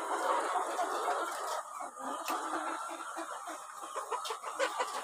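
Laying hens clucking steadily on a poultry egg farm amid a dense, continuous flock murmur, with occasional sharper calls rising above the background.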